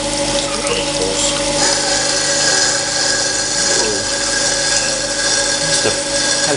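A grinding wheel runs loud and continuous against the edge of a steel collet block, a steady coarse grinding roar with faint shifts in tone and no pauses.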